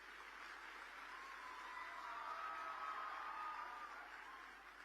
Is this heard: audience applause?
yes